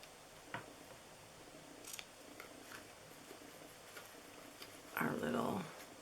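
Scissors trimming ribbon on an Easter basket bow, a few soft close snips and small clicks followed by one longer, louder cutting rasp near the end, with no talk.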